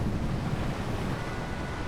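Water and surf wash around a seaplane just after it lands in a flight simulator game during a storm, a steady broadband rush with wind noise, continuous and fairly loud with no speech.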